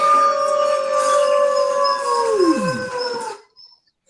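A man imitates a howl with his voice: one long, loud, close sustained wail that holds steady for about three seconds, then swoops down in pitch and trails off into silence.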